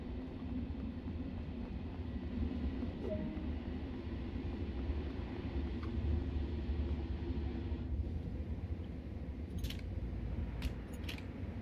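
An M7 commuter train on the Long Island Rail Road in Train Sim World rumbles steadily at low volume, with a few faint metallic clicks near the end and no speech.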